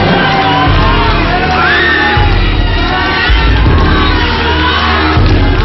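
Studio audience at a televised talent show in the Philippines cheering, whooping and shouting loudly and continuously, with dense overlapping voices over a steady low backing.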